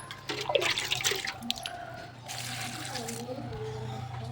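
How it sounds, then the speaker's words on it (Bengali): Water is poured onto a potted rose plant, splashing and trickling in two rushing bursts with brief drips between them. A faint voice is heard under the splashing. "গোলাপ গাছটা তো একটু জল দিয়ে নিই"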